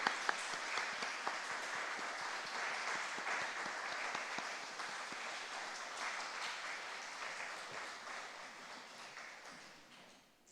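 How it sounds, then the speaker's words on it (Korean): A church congregation at an early-morning worship service claps for its teachers, a sustained even wash of many hands at moderate distance that holds steady and then slowly fades toward the end. "우리 교사분들 들어갈 때까지 같이 박수로 우리 같이 화답하도록 하겠습니다"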